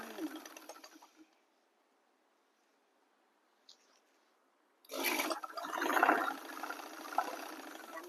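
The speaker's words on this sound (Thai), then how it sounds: "สีไม่ตกเลยแล้วก็เริ่มเย็บไหลอีกนะคะด้านนี้" A sewing machine runs in short bursts while stitching and backtacking the shoulder seam of a garment, loud and close after a quiet stretch, with a brief stop early on.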